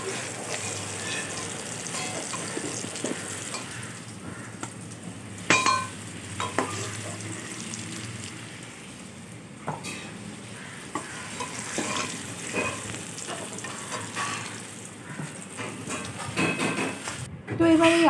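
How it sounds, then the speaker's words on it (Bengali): Potatoes fry in hot oil in a pan for a mutton curry, giving a continuous close sizzle with scattered clinks and scrapes of a utensil against the pan, and a voice speaks over it at times. "এখানে আলুটা আমার বেশ সুন্দর লাল করে ভাজা হয়ে গেছে। এবার আমি আলুটাকে তুলে নেব।"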